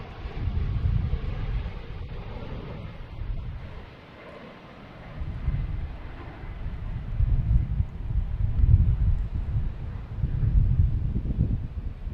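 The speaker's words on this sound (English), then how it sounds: "This wind is crazy." Strong wind blowing at Boston Logan Airport, a loud rumbling gust roar buffeting the microphone that swells and eases in waves, briefly dropping off midway before surging again.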